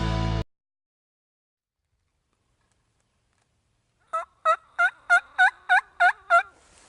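A wild turkey gobbles in a quick run of about eight rattling calls, clear and moderately distant, after a short loud burst and a few seconds of silence.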